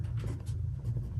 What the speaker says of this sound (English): I'm gonna write on the next page